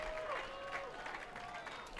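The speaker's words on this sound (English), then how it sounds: "Big roars from the huge crowd." A huge crowd cheers and applauds at a men's final padel match at the APTA Nationals, a faint, distant wash of clapping and roars with a commentator talking over it.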